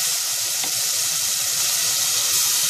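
Sofrito hits a hot pot for a steady, close sizzle with a watery hiss, no voices over it.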